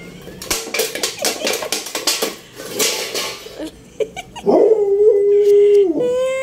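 A hungry pet dog lets out a drawn-out, wavering howl that slides into whimpers, loud and close, following a stretch of clattering pots and dishes in a home kitchen.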